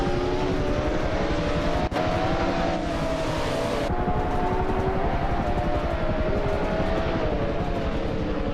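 Video game race cars at the start of a race, engines roaring together in a loud, continuous drone with rising whining tones and a brief sharp break partway through.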